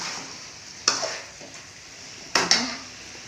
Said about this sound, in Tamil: இன்னும் சிக்கன் வந்து இந்த எண்ணெயிலே கொஞ்சம் வதங்கிட்டுருக்கு